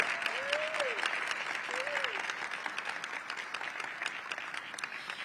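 An audience at a District of Columbia infrastructure leadership event applauds the Deputy Mayor of Infrastructure, with dense, steady clapping and a couple of rising whistles early on, the applause continuing evenly throughout.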